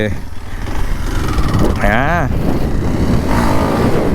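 A Kawasaki KLX 230 dirt bike ridden on an ordinary road hums with steady, close engine noise throughout. A short rising rev sounds midway, and a voice talks over the engine.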